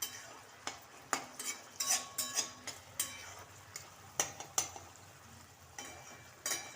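Onion and tomato being sautéed in a pan for a traditional Maharashtrian Bhogi vegetable dish, with repeated spoon scrapes and clinks against the pan over a soft background hiss, close and moderately loud.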